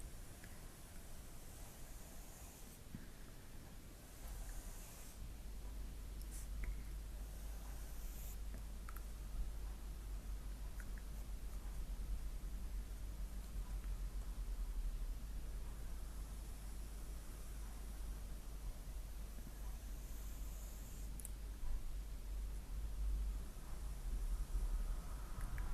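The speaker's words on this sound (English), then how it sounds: "Can feel the noise the pen makes when it touches on the paper" A Sharpie marker scratches and glides steadily across paper while drawing, producing a soft continuous rustle that lasts throughout with no talking.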